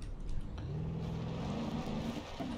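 A truck engine accelerating in BeamNG.drive, a low steady drone rising gradually in pitch as it gains speed, moderately quiet and continuous with no talk.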